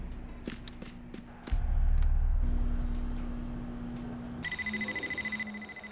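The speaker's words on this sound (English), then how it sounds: "If I reprogram the timer, I can make the alarm go off almost immediately." An alarm goes off in the video game Dreamfall: The Longest Journey: after a low rumbling stretch, a rapid run of steady electronic beeps pulses evenly through the last second and a half, with no talking.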